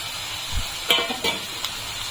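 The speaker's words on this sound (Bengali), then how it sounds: "এখন আমি এর ভিতরে একটা কুচানো পেঁয়াজ দিয়ে দিচ্ছি।" Chopped onion hits a pan with bottle gourd peel, giving a soft sizzle with a few sharp clinks and scrapes of stirring against the pan, close and moderate.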